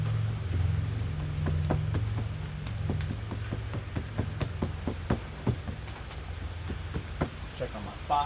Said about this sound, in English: Can you hear that rain coming down? It's awesome.